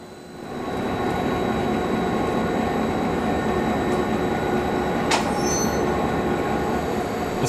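The Spirit of Progress, a streamlined all-steel heritage passenger train on Victoria's North East line, rolls past with a steady, loud rumble of wheels on rails, brief metallic squeals and a sharp clank partway through.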